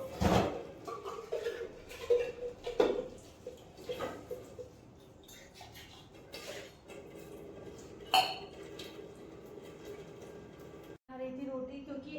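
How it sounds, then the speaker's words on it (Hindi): Dishes, pots and utensils clinking and knocking during washing in a home kitchen, scattered sharp clatters over running background noise, with someone speaking at times. "अब मैं बर्तन वॉश कर लेती हूँ।"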